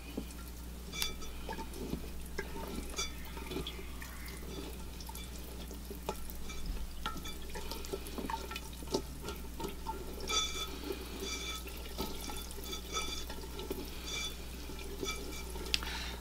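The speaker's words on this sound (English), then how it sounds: "I'll give that a stir." A salt and aluminum oxide mixture is stirred in water, with faint, steady swishing and light liquid clinks over a low constant hum, with no talking.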